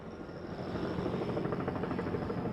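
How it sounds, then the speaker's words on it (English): Helicopters circling over the scene of a truck crash that struck high school runners produce a steady, loud rotor drone with rhythmic chopping, continuous and without voices. "I've only heard choppers in the area."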